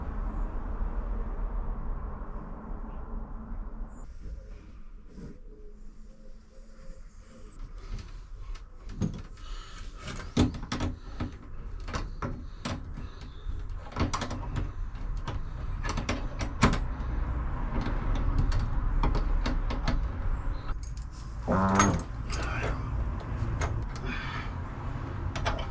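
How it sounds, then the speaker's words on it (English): Bolts are tightened to join worktops in a garden shed, with scattered clicks, knocks and short ratcheting scrapes at an irregular pace over a quiet room background. "Now it's a case of just tightening up the bolts and keeping an eye on the top."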